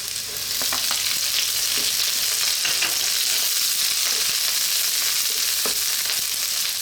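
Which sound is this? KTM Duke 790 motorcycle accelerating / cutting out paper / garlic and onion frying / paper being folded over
garlic and onion frying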